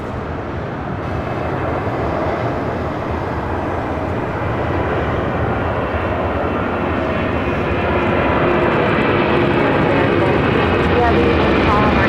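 A plane landing on runway 25 left at LAX gives a loud, continuous broadband roar of aircraft engines that swells slightly toward the end, heard alone without pause.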